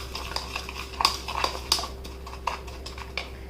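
A spoon clinks and scrapes in a bowl as honey, sugar and turmeric are stirred into a homemade facial scrub, giving soft irregular taps and a few sharper clinks over a low steady hum.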